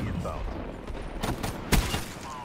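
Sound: gunfire in video game Call of Duty Black Ops 3

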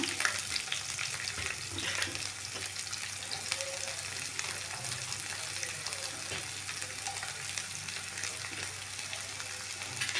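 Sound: cubed onions frying in oil

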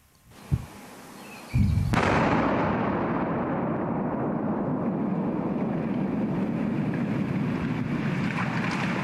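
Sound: controlled detonation of ammunition explosion

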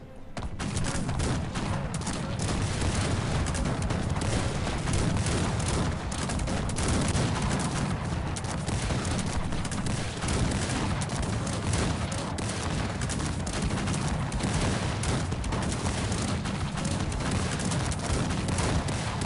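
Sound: cannon and gunfire battle in video game Cossacks 3

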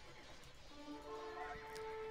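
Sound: horse neighing as it dies in a video game

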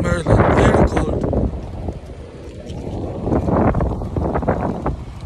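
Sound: strong cold wind outdoors

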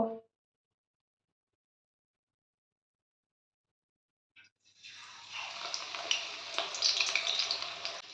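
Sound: coriander leaf pakoras in gram flour batter frying in oil

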